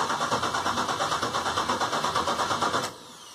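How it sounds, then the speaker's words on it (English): A Box Chevy engine cranks with a fast, even chugging of the starter for almost three seconds, then abruptly drops to a quieter, steady running sound, close and loud, with no voices. "it's gonna crank up this time"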